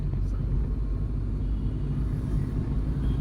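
A car rumbles along a road at about 30 on a driving lesson, a steady low engine and road drone throughout, heard from inside the cabin with no clear gear-change break.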